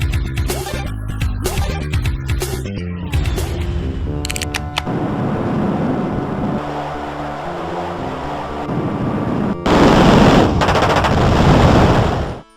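Gunfire and game music from an MS-DOS platform game starring a gun-wielding green rabbit, with rapid bursts of shots over a busy electronic soundtrack and a louder, denser passage near the end.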